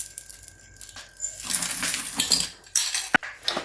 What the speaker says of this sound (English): These are cacao nibs. I'm going to do 2 tablespoons.